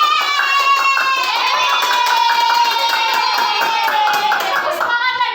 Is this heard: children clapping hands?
yes